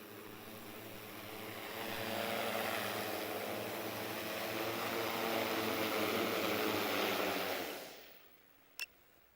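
An X6 agricultural spray drone's steady, droning propeller hum holds for about eight seconds, then fades out abruptly, leaving near silence and one brief click.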